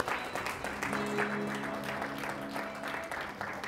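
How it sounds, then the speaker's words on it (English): A church congregation claps for the pastor in a short burst of hand clapping that holds steady throughout, with a faint sustained tone underneath. "Give him a hand clap."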